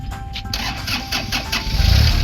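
A Kubota L3408 tractor diesel engine cranks and catches, a brief churning start that settles into a steady mid-pitched idle and grows louder and rumblier near the end, close and clear with no talk.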